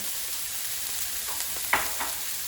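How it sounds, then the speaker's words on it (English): Fresh dill, mint and coriander fry in a little vegetable oil for a stuffing, giving a steady soft sizzle with a few light stirring scrapes near the end. "We're going to fry these as well. This is for the stuffing."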